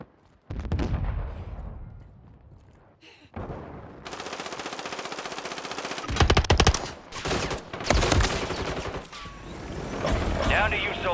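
Video game combat: bursts of machine-gun fire and sharp gunshots, some loud and close, others farther off, broken by short pauses and mixed with a voice speaking amid the shooting.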